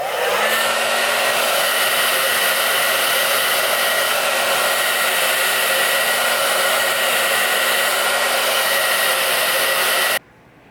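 A hair dryer blows on high heat while a wig's part is laid, a loud, close, steady whoosh that runs unbroken for about ten seconds before cutting off abruptly.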